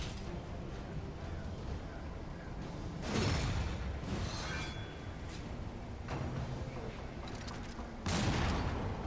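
Mortar attack in Darkest Dungeon 2, a few heavy booming blasts in bursts, separated by quieter stretches, with a voice talking faintly underneath.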